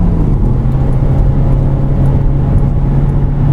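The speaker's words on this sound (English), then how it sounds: "Traffic is moving." Loud, steady motorway traffic heard from inside a moving vehicle at about 70 mph, a constant low whir and road roar with a faint rising engine tone and no talking.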